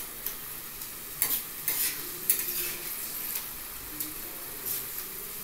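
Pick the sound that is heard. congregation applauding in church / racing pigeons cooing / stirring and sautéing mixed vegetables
stirring and sautéing mixed vegetables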